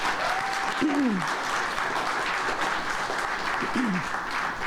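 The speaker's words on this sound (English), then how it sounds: "let's give them a round of applause for that" Audience applause at a ribbon cutting for Dom's Kitchen & Market in Chicago: a steady, full wash of clapping from a crowd that fills the whole few seconds, with a faint whistle rising over it.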